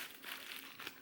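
Red tissue paper crinkles softly and steadily, close up and quiet, as a custom strap is unboxed.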